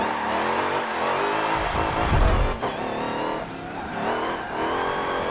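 A 1000-plus horsepower converted family car drifting at around 100 miles per hour in a racing video game, its engine roaring steadily with tire squeal and skidding rising midway, loud and close with no talk.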